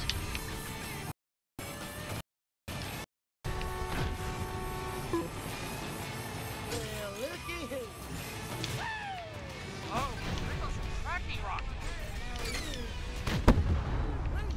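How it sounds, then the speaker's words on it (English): Explosions and crashes in the Cars 3 Driven to Win racing game boom under excited voices and engine noise, with several heavy bursts and clattering impacts scattered through a busy, continuous mix. "Explosion! It's like this game was made by Michael Bay."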